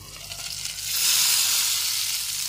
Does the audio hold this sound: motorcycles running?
no